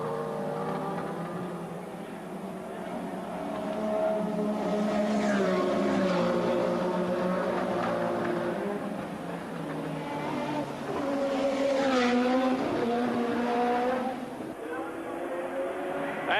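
A 1984 Formula One car at the Monaco Grand Prix roars past with rising and falling engine pitch, loud and continuous beneath an excited commentator's voice.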